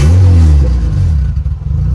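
A car engine on an all-wheel-drive build with a lean misfire is blipped hard, a loud short rev that falls back to a rough, uneven idle.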